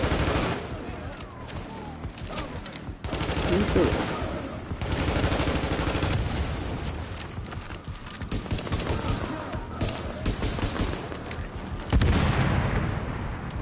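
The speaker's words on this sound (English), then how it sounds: "Little red ad shooting at me now." Sustained enemy gunfire in The Division video game, rattling automatic shots and heavy impacts layered continuously, loud and close, with a voice talking over parts of it.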